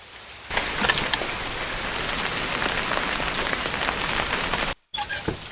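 Heavy rain pours steadily in a dense, hissing wash, then cuts out abruptly for a moment before resuming.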